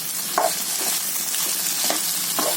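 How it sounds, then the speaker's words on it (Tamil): Potato slices frying in a pan on low heat while being stirred, a constant close sizzle with several distinct scraping stirs of the spatula, no speech. "உப்பு ஆட் பண்ணிட்டு நல்லா கிளறி விட்டுக்கோங்க."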